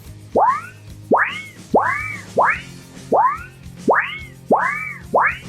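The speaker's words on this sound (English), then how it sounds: "Literally any movement Spidey has, they hit it with that wobble sound effect." A Spider-Man video game plays its web-swing sound effect, a wobbly, springy whoosh resembling bending sheet metal, repeated eight times in a steady, even rhythm, loud and close with no talk.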